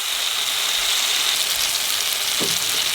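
Tomatoes sizzle in a hot pan while veg dal is being made, with a steady, hissing fry throughout and a brief scrape of a utensil near the end; no one talks.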